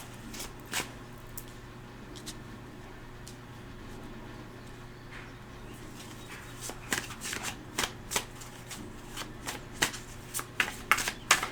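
Cards from a Twin Flame Journey Oracle deck are shuffled close to the mic, with soft riffling at first that builds into sharp, repeated flicks and taps toward the end. Nobody speaks.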